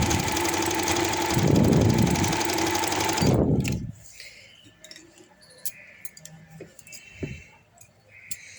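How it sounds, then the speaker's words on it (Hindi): A sewing machine stitches over a joined lace design with a loud, steady mechanical whir and rapid ticking for about three seconds, then stops and leaves scattered small clicks and handling noises. "अब इस तरह डिज़ाइन के ऊपर से मैंने सिलाई लगा देनी है।"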